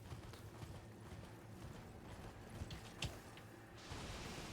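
Horse hooves clip-clop steadily in Elden Ring, a quiet continuous trotting rhythm with a few sharper clacks near the end.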